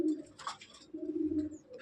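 Pigeons coo in a loft, soft low throaty murmurs repeating close by, mixed with faint rustling and chirps at a quiet level.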